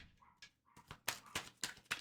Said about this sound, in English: The dog will not be bothering us at all.